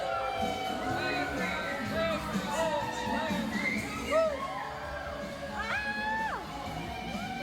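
River taxi passengers yelling, whooping and shrieking together under a bridge in a sustained, echoing din, with some high scream-like cries rising above the noise.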